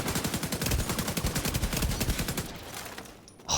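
Assault rifle fire in The Division 2 with a blue AR build: a loud, rapid sustained burst of evenly spaced shots lasting over two seconds, then a brief quieter tail before another sharp sound.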